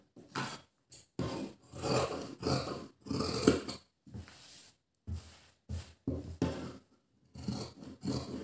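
Fabric scissors cut through blouse cloth in short rasping strokes, with snips coming in uneven bursts and brief pauses between them. The cutting is close, moderately quiet, and has no voices over it.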